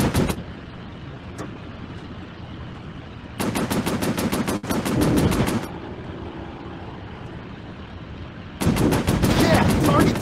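Warplanes in a video game fire machine guns in long rapid bursts, loud and close, broken by pauses under a steady engine drone.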